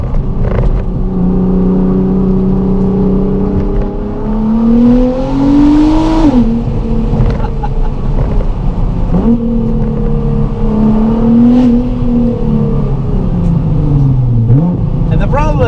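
A malfunctioning Nissan GT-R on the road gives off a loud, continuous engine drone whose pitch rises and falls with throttle, sweeping up and dropping back several times while a voice talks over it.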